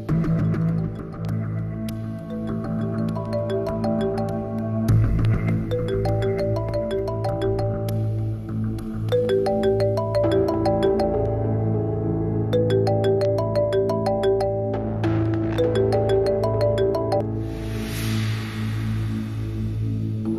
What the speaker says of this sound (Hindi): आई थिंक आपका फोन बज रहा है वहाँ।